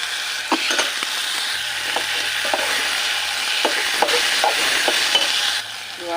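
Chopped brinjal hits a hot pan and fries with a continuous loud sizzle, broken by scraping stirs and light clinks of a spatula against the pan.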